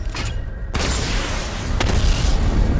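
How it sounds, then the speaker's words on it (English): Missile barrage launching in Batman Arkham Knight, a sharp boom followed by a dense, loud rumbling roar of projectiles that holds steady to the end. "Missile barrage level 1 ready."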